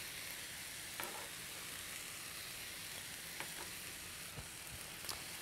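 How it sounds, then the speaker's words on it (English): Halved cherry tomatoes seasoned with salt and pepper are stirred in a hot frying pan, a steady sizzle running throughout with a few sharp utensil clicks against the pan, close and alone with no voices. "And just give that a stir"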